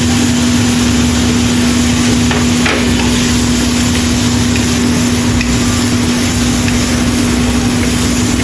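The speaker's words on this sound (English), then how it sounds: "Add luncheon meat and stir-fry." Luncheon meat stir-fried in a pan, producing a loud, continuous sizzle with a steady hum beneath and occasional faint scrapes.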